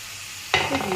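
Garlic and chili paste with tomato hit hot oil for a chital fish dish, bursting into loud close sizzling and frying halfway through after near silence, with stirring scrapes continuing.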